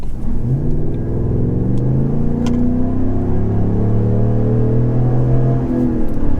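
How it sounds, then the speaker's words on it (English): Inside the cab of a GM 6.6L gas truck fitted with a Borla S-Type exhaust, the engine growls loudly under hard acceleration from about 30 mph, its deep droning note climbing steadily and continuously with no talk. "do a hard acceleration and let you hear what it sounds like inside the cab"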